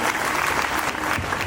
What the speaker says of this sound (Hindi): एक बार जयश मकवान के लिए ताली बजाइए।